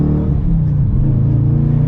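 A 2022 Dodge Challenger R/T with a manual gearbox accelerates on the road, its engine producing a loud, steady, deep droning exhaust note heard from inside the car.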